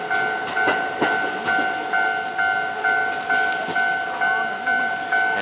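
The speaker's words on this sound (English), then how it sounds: "As soon as one train goes through, another train goes through, and you can see for yourself." Trains roll through a Japanese rail line, with a regular rhythmic thumping of cars over the track and steady ringing tones sustained above it, moderately loud and close, with no voices.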